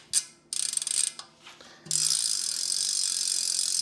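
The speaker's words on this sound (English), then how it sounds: "Rotate it backwards while you're putting it on, so it clicks in, and end cap" Metallic ratcheting clicks from a bicycle freehub as it is rotated backwards and seated onto the axle of a Reynolds wheel, a few short bursts and then a sustained buzzing whir.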